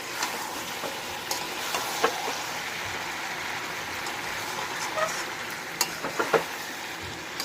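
Kalbet meat is sautéed in a pan, a steady crackling sizzle close up with occasional sharp pops and stirring clinks throughout.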